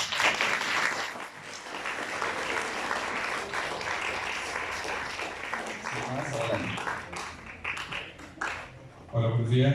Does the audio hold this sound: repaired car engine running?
no